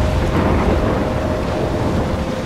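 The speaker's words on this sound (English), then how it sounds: "trapped in a storm?" A dense, loud roar of rain and rumbling thunder from a storm in the game Life Is Strange fills the scene continuously, with no voices.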